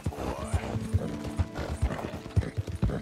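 Rhythmic hoofbeats of a galloping horse in Red Dead Redemption 2, quick repeated thuds with clattering tack, fairly close and loud, without talk.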